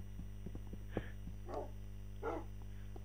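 Dog barks from the Minecraft video game, two or three clipped, game-like yaps rising above a constant low hum and soft ticking footsteps.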